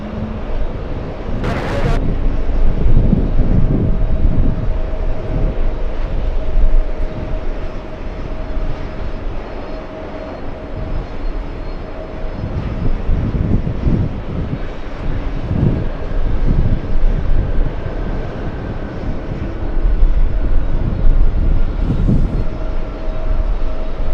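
A jet airliner rumbles steadily on the runway at LAX, a broad continuous roar with wind buffeting and a faint whine, heard from a distance for the whole stretch while air traffic radio talk plays over it.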